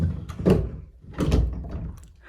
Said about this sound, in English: I love how these doors open and close.